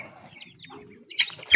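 A mother hen gives a few soft, short clucks up close in a poultry coop where newly hatched chicks are being moved, followed by a brief sharper squawk near the end.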